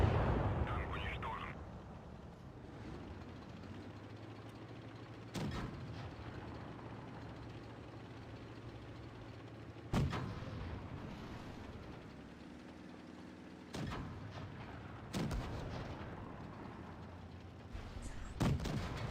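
Tank cannon shots boom in a tank video game featuring the Object 268, about five sharp bursts spaced several seconds apart under a low rumble, fairly faint, with a voice talking in between.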